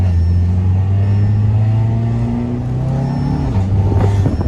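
A 2020 Audi A3 with an RS3 turbo kit launches hard, its engine roaring loudly and climbing steadily in pitch before a quick shift, heard close and alone.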